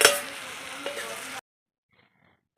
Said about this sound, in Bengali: এই যে সিম ভাজা উনুনেও হচ্ছে আস্তে আস্তে